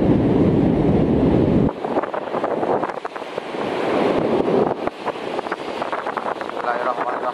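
Strong wind buffets the microphone on a beach during shore fishing, a rough roaring gust that dips briefly then keeps blowing, with surf in the background and someone talking.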